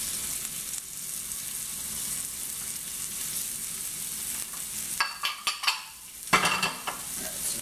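Steak sears in a hot cast iron skillet with a steady loud sizzle, broken near the end by metal utensil clinks and scraping as the meat is turned.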